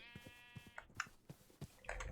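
Sheep in the game Minecraft, played in the FTB modpack, give short bleats spread over a couple of seconds, faint and thin, with a soft game background.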